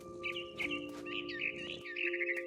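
Repeated chirps and short tweeting calls from a mother bird in the video game What Remains of Edith Finch, fairly close and clear above a steady hum of game ambience, with no talking.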